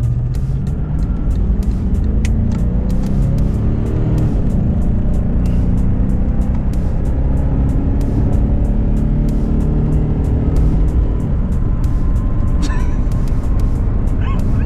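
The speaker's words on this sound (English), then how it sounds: "Here's the acceleration test." A Mercedes W126 560SEL, the 1980s flagship sedan, pulls hard under full acceleration. Its loud, close engine note rises steadily in pitch as the revs climb and hold, with steady road and wind roar underneath.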